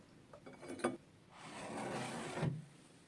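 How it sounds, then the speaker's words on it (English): Dry ingredients and sugar for a Matilda-style chocolate cake get stirred in a bowl, with a few light clinks of utensil against the bowl, then a steady soft scraping and swishing that ends with a tap. "Give everything a good mix"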